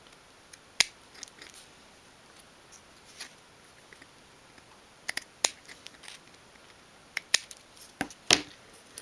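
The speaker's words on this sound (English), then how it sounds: "And then just snip away an angle at each corner" Scissors snip paper flaps at the corners of a 1/12th scale miniature shoe storage bench: a series of crisp, close snips spaced irregularly, with quiet gaps between and no talking.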